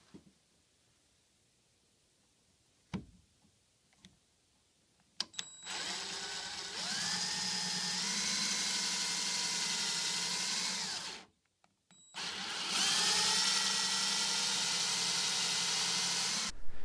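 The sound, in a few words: power drill boring dowel holes into wooden chair leg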